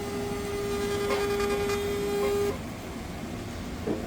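A wireless crane scale's label printer printing a label, a steady electronic whine and feed noise running for about two and a half seconds, then stopping into quiet room hum, heard close with no talk.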